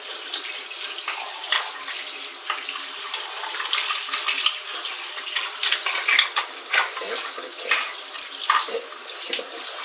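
Tap water runs steadily while a bathroom drain cover is rinsed after hair is cleared from it, a close, continuous hiss broken by irregular splashes.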